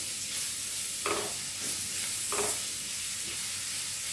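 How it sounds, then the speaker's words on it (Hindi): Stuffing mixture for stuffed capsicum being stirred with salt in a pan, a hissing sizzle with two brief scraping stir strokes, close and moderately loud, no talking. "नमक और इसको थोड़ा सा मिक्स कर दें"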